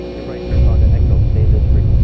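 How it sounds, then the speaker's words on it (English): Deep, steady jet engine roar from a Boeing 757 in the X-Plane 12 flight simulator on approach over Los Angeles, swelling louder after a quieter start and holding a heavy low rumble, with talk over it. "Wow, you can hear that bass in the engines."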